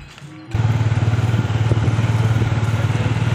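A motorcycle engine runs close by with a steady, pulsing throb that starts suddenly and holds at a constant level rather than fading away.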